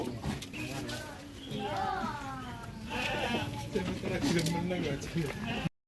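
Goats for sacrifice at a goat market ahead of Eid al-Adha bleat in wavering calls, several overlapping, heard close over steady crowd chatter and people talking throughout.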